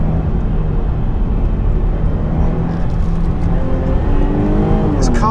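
A Jaguar XE S with a 3-litre V6 drives along a dry cliffside road, its engine a loud, steady drone mixed with wind noise from a slightly open window, rising toward high revs near the end.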